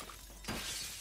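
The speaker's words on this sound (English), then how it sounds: "We broke glass." Glass shattering in the shooter game Warzone 3, a single bright crash bursting out partway through and then scattering into a hissing spray of fragments, close and fairly loud, with no voices.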